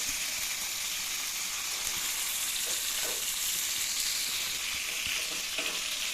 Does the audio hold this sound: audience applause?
no